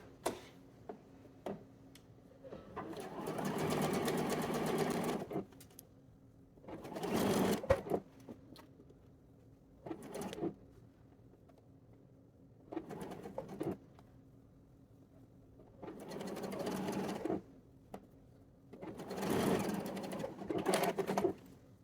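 A sewing machine bastes a lace bodice in short bursts of quick stitching, each lasting a second or two, separated by quiet pauses, all heard close but fairly soft.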